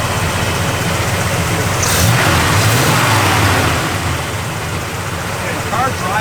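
A 1969 Chevrolet Chevelle SS V8, apparently a standard rebuild without a big cam, rumbles at idle and then swells briefly with a blip of revs before settling back, heard close, with someone talking over it.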